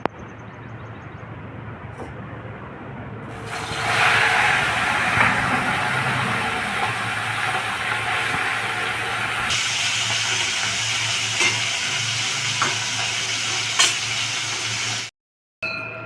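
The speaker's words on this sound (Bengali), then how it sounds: "তেল গরম হয়ে গেছে, আমি এই খয়রা মাছগুলো ছেড়ে দিই।" Khoira fish drop into hot oil in a pan, a loud hissing sizzle rising after a quiet start and running steadily until it cuts off near the end.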